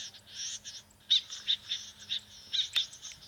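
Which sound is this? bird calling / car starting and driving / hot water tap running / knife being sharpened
bird calling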